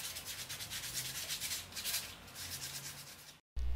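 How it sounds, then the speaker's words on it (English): Coarse sandpaper works over the edges and surface of a fiberglass archival jacket in rhythmic back-and-forth scratchy strokes, close and steady, before a brief cutout and a louder bump at the end. "Sand the edges and surface with coarse sandpaper."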